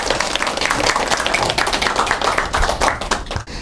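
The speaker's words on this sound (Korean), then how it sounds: "큰 박수로 환영해 주시기 바랍니다" Audience applause welcoming a speaker at a party event, dense sustained clapping from a room full of people that cuts off abruptly near the end.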